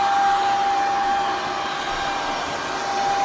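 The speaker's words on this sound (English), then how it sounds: "I'm gonna vacuum your hair" A vacuum cleaner runs steadily up close, sucking dust off a man's hair and back at home, a loud continuous whirring drone with a constant tone that holds for the whole stretch.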